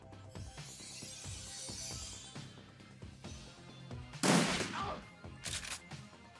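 Gunfire from the Shadowrun Returns video game, with a sharp loud shot or burst in the middle of the clip over a busy game soundtrack, followed by shorter, softer bursts.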